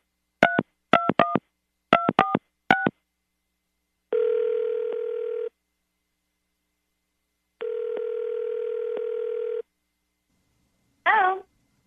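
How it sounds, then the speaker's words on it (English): A telephone keypad dials a quick run of DTMF tones in two bursts, then a steady tone sounds twice with a pause between, followed by a short wavering electronic chirp, loud and clear with no talking. "All right, Kate, you ready to get him on the phone and ask him why he just stopped talking to you"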